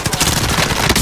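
Rapid automatic weapon fire in Call of Duty Warzone, a dense, loud, continuous rattle of shots over one second.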